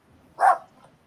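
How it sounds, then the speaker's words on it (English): A single short dog bark sounds at the back door, a quick close yelp standing alone in an otherwise quiet room. "She runs to the back door barking"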